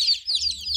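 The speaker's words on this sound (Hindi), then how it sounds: "तो फिर ये ब्लैक वाली जो मुर्गी है" A black hen clucking near her chicks, a quick series of bright, close clucks repeating over a faint low background hum.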